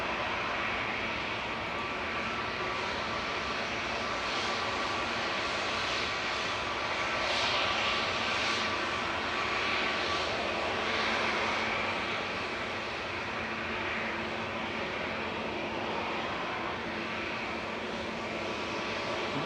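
An Airbus A320neo jet lines up on the runway for departure to Athens, its engines giving a moderate, steady distant rumble and whine that swells slightly in the middle before settling.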